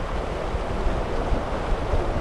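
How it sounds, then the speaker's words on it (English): A Hallberg-Rassy 50 ocean cruising yacht sails heeled in light wind, about 8 knots true, making 7 knots; steady broadband rush of water along the hull and wind noise, close and continuous, with no talk. "This is pretty impressive light wind sailing for an ocean cruising yacht"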